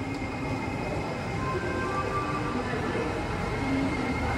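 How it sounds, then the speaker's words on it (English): Steady, dense rumble of a train and rail machinery at a train station in Sofia, Bulgaria fills the space, continuous and fairly loud, with no clear voices. "this is the train station where I usually get up."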